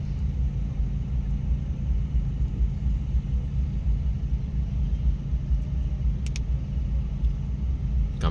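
An SK120 excavator digs fairly hard soil and loads it into the bed of a six-wheel dump truck, producing a continuous low diesel rumble that stays loud and steady, with a couple of brief metallic clicks near the end and no talking.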